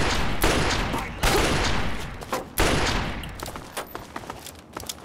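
Gunfire in the video game Fallout 3: rapid bursts of shots in several loud volleys, rough and dense at first, then thinning into scattered single cracks toward the end.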